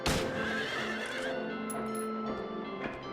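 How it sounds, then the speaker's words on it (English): A horse in Silent Hill 3 gives a loud, close, shrill neigh that trails off, with faint hoof-like clopping and ambient game noise behind it. "So shoot the horse."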